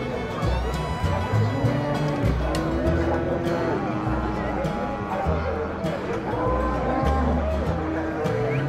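Heifers and other cattle moo in low, drawn-out calls at a livestock market in Nueva Guadalupe, San Miguel, El Salvador, as people talk over and between the repeated lowing.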